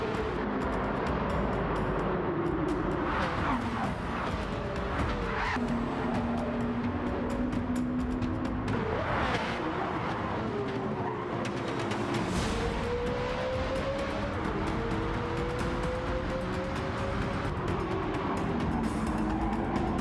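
Race cars from Gran Turismo 7 roar through a tight pack on a narrow, dangerous track, their engine notes rising and falling in overlapping sweeps, loud and continuous.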